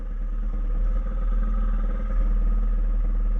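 A fat tire Groundhog motorcycle being ridden, its engine a low, throbbing rumble with a steady pulsing beat, loud and close, with slight rises in intensity and no talking.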